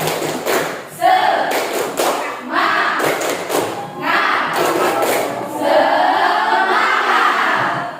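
Seventh-grade students in an Indonesian classroom perform a rhythmic spirit clap, with loud grouped bursts of clapping and thumping separated by short pauses and mixed with some voices.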